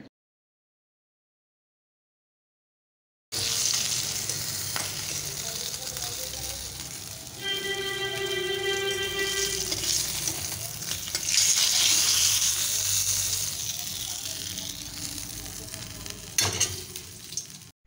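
Spice paste for fish curry frying in a pan, a steady close sizzle that begins after a few seconds of silence, with occasional stirring scrapes and a brief faint tonal beep partway through; no speech.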